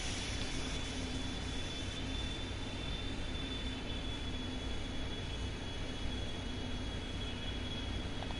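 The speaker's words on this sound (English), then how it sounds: "Clean takeoff." Airliner takeoff in the PTFS flight game, a steady continuous engine roar with a thin high whine held throughout, loud and unbroken with no voices.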